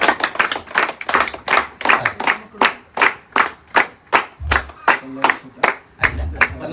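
An audience claps in a brisk, fairly regular rhythm of sharp, close handclaps, sometimes falling into near-unison beats, with some voices mixed in.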